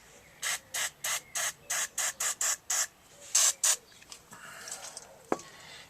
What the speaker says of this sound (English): Blast with the old penetrating oil.